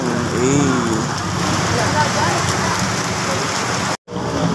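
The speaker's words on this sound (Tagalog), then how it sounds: "sobrang lakas ng ulan" Heavy storm rain pours down steadily in a city street and fills the whole clip as a dense, loud hiss. A faint voice rises briefly near the start, and the sound cuts out for a moment near the end.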